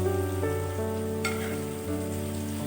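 Fried minced mutton is tipped into a pot for a mutton chana masala, giving a steady close sizzle of hot oil that flares briefly as it lands, with no one talking.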